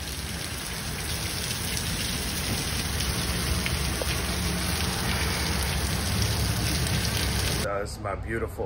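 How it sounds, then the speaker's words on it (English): Heavy rain ahead of an incoming hailstorm in Mobile, Alabama pours in a dense, steady hiss for most of the stretch, then abruptly drops away as a voice speaks near the end. "I noticed another hailstorm coming in fast"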